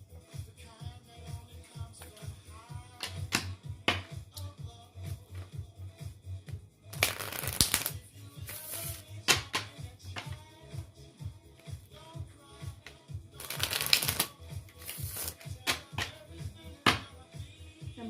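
A deck of oracle cards is shuffled by hand close to the mic, giving steady papery taps and slides with two louder riffling bursts partway through.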